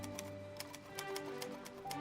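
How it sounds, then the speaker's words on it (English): Typing in the video game Rise of Industry gives a typewriter-like clack, a quick steady run of faint, crisp taps over a low tonal music bed, no voices. "When you type, it's like a typewriter."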